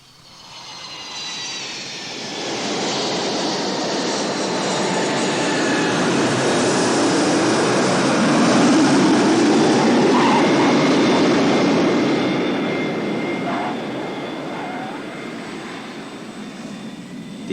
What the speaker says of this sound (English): The airplane with Mouse and Kyoko on board made an emergency landing at the American Air Force Base